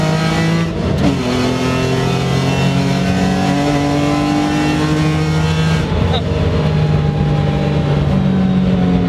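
A BMW E46 M3 engine pulls hard while driving, its rising note climbing through the gears with a short break for a shift, loud and close from inside the car.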